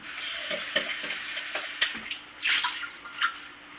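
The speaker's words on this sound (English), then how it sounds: "put some water on this cup." Water splashes and trickles into a container in uneven bursts, with a few louder pours near the end, close by and fairly quiet.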